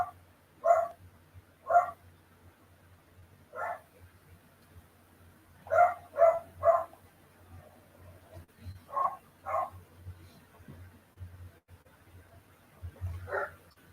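Dogs bark in short bursts, singly and in quick clusters of two or three, spread across the stretch at moderate distance over a low steady room hum, with no talking.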